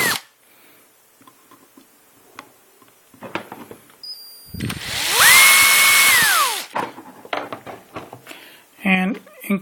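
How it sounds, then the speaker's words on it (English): A small 1/16 drill bit in a power drill bores holes in a tricopter tail mount, one rising-and-falling whine lasting a couple of seconds, with handling clicks and scraping around it. "take a real small drill bit, 1/16 or so, and just drill those out"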